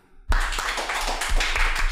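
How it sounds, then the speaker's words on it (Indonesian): A short burst of applause that starts abruptly and holds as steady close-up clapping by a small group of people, ending without any voices. "Tepuk tangan."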